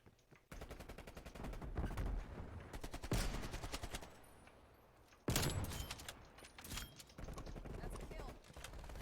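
Sniper rifle shots in a video game, a few sharp loud cracks spaced seconds apart over dense game noise and rapid clattering fire, with a voice talking through it.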